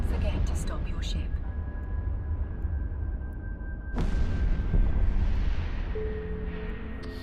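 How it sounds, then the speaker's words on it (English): Ship weapons firing in the space game Eve Online, a dense continuous rumble with a sharp loud blast partway through and a sustained roar afterward, heavy low booming throughout. "Now it's time to engage your weapon"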